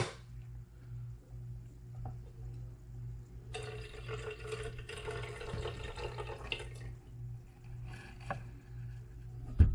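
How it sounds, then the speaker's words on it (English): Water pours steadily from an AUCOO collapsible travel kettle for a few seconds over a low background hum, then trickles off with a few small drips. "pour the water out here."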